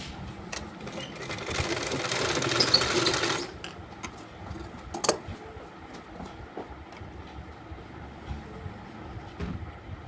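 A sewing machine runs for about three seconds in a fast, steady whir while stitching the lining of a blouse. Scattered clicks and handling noises follow once the machine stops.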